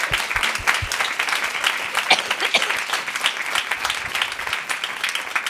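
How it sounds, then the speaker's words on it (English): An audience at a film conversation event claps warmly, a dense crowd applause with sharp individual claps near the start, sustained at a steady level throughout. "If we can just give them another round of applause."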